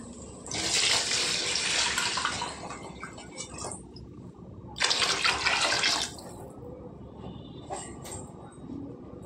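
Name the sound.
water being poured into pot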